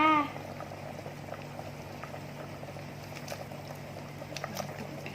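A pot of Lao-style bamboo shoot curry with mushrooms simmers at a steady low bubble, with a soft continuous burble and occasional faint pops close by.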